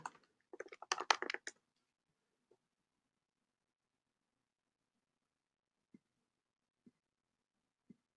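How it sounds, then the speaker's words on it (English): Quick, light keyboard typing in a brief flurry, then a few isolated keystrokes spaced seconds apart in an otherwise quiet room. "All right, I'm typing it in."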